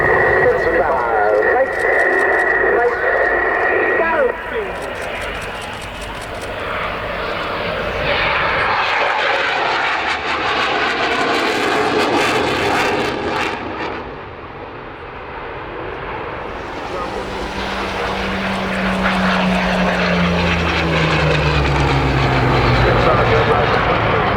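Eurofighter Typhoon jet of 29 Squadron performing at the RAF Cosford airshow, a loud sustained roar that surges and shifts pitch as it passes, with a commentator talking over the public address throughout.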